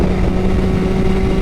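A 2022 Suzuki Hayabusa engine held at a steady, loud, close roar under extra throttle, a continuous droning hum with no breaks and no talking.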